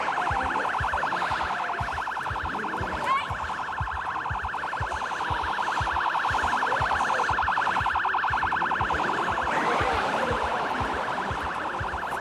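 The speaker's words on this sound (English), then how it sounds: "I need to turn off that damn siren." An electronic siren in Project Zomboid blares continuously, a rapid pulsing warble repeating steadily for several seconds, loud and close, with a faint chirp partway through.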